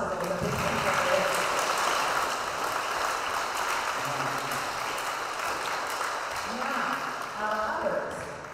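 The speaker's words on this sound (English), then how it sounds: "give him a round of applause so that we can thank him for it" Audience applause in a school auditorium during a fall band and choir concert, a steady wash of clapping lasting the whole stretch with people talking over it.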